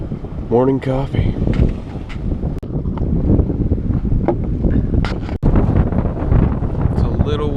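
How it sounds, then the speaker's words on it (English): Strong gusting wind buffets the microphone aboard a sailboat in the Bahamas, roaring steadily throughout with a brief voice near the start. "Windy out there today."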